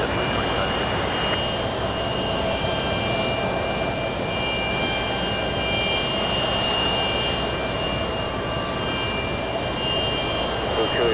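A departing JetBlue jet airliner roars steadily throughout, a loud continuous engine rumble with a broad hiss that holds at a constant level from start to finish.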